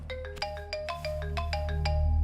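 A telephone ringtone plays late at night in a Hindi film scene, a bright repeating electronic melody of rapid tonal beeps, loud and close with no voices over it.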